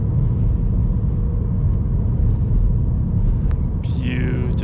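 Steady in-car drone of a 2013 Vauxhall Astra 1.4 SRi pulling in third gear along narrow country roads, a constant low rumble with no talk.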